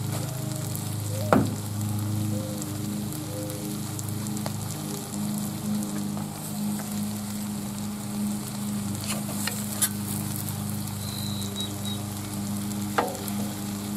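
Cooking oil sizzles on a Blackstone griddle with the fire turned low, a steady close frying hiss running throughout, broken by a few sharp clinks and scrapes of a utensil on the metal surface.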